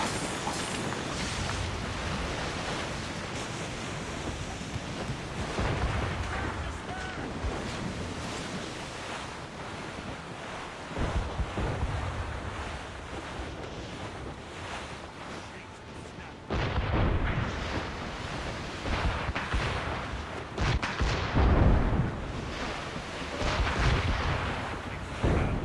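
Heavy ship cannon fire in an Assassin's Creed Rogue cutscene, deep booms blending into constant roaring ocean surf and wind, with a louder burst of blasts near the end and shouted voices mixed in.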